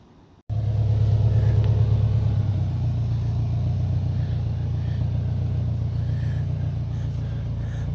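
Lifted Subaru GC8 with a four-cylinder engine pulls away after a brief quiet start, its loud, steady engine drone and low rumble continuing close by with no talk.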